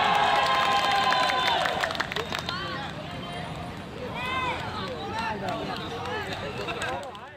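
Stadium crowd at an amateur football quarter-final before a penalty shootout, a broad roar of cheering and applause under an excited commentator's voice, with whistles and shouts scattered through the noise.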